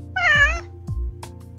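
A cat in the Apothekitty video game meows once, a clear rising-and-falling call, followed by soft game interface tones and low chimes, close and alone.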